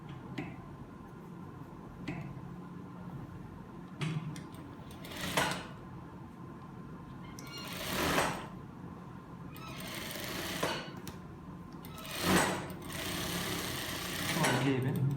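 Sewing machine stitching the elastic-waist pocket of size 42/44 trousers, a steady low mechanical hum with several short bursts of faster stitching at intervals, fairly faint.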